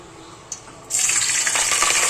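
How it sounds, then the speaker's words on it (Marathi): Ground spice masala hits hot oil for tempering a puran poli saar. The quiet kitchen suddenly erupts into a loud, steady hiss and sizzle that runs on without pause. "आता फोडणी द्यायची"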